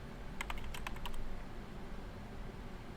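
Quick burst of keystrokes on a computer keyboard, a short clustered run of clicks entering a Linux chmod command, fairly faint over a steady low room hum, then the typing stops.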